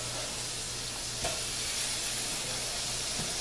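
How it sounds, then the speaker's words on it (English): Burger patties sizzle steadily in a pan, a continuous close hiss of frying meat with no talking. "Now we still have our meat over here cooking, so we'll just run over and check on that."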